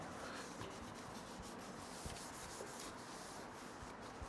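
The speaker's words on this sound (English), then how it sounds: "what I want to do is just wipe down the pipe, because once it's covered, it's going to be hard to clean underneath" A cloth wiping down the exhaust pipe of a Yamaha R1 motorcycle, a quiet, continuous rubbing and swishing close by.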